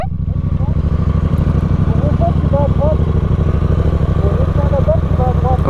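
KTM Duke 990 motorcycle engine running steadily while riding, a loud continuous low throb with dense rhythmic firing pulses throughout, close and unbroken, with faint chirps over it.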